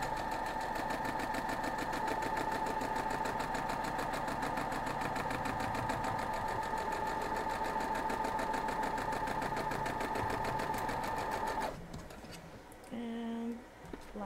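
A sewing machine runs steadily, stitching quilt block pieces in a fast even whir with a rhythmic mechanical patter, close and loud for most of the stretch, then stops abruptly, leaving a few quieter clicks and handling sounds.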